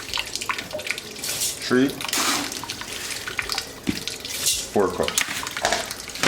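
Long grain white rice is rinsed in water, swishing and splashing with running water, near and moderately loud, while someone talks over it.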